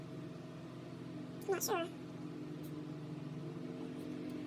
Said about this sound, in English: I hear a big truck outside or something.